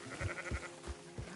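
A sheep in the Red Dead Redemption 2 video game gives a short, quavering bleat, its voice pulsing in quick wobbles, fairly quiet and heard alone.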